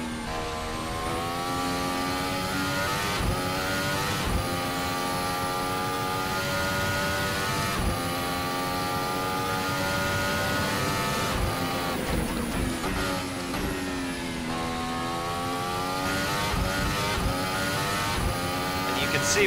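A Formula Hybrid race car runs at full throttle on a lap, its engine note rising and falling through repeated gear changes, loud and close, sustained throughout.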